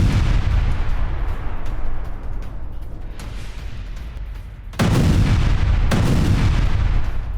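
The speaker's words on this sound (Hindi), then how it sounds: "रूसी ठिकानों पर यूक्रेन का बारूदी प्रहार।" Heavy artillery fire from a Ukrainian strike on Russian positions, a continuous low rumbling barrage with sharp, loud booming bursts near the end, no voices.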